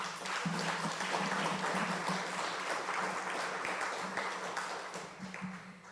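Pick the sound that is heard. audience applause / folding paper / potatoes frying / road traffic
audience applause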